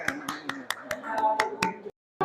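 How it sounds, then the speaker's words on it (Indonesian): Classroom applause comes in a short run of sharp, separate claps at an uneven pace, with voices murmuring underneath, before the sound cuts out briefly. "Kasih aplaus buat kita semua."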